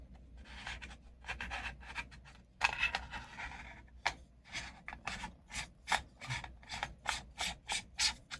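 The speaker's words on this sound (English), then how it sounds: "Yeah, just by screwing it on." A telephoto lens adapter screwed onto a phone camera, close intermittent scraping and rubbing bursts of thread friction, irregular short strokes with brief pauses between them, no talking.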